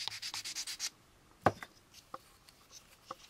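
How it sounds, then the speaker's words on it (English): A plastic model kit part of the AMT U.S.S. Enterprise is cross sanded flat with a run of rhythmic close scrubbing strokes, followed by scattered light scrapes and taps. "Just give that a little cross sand,"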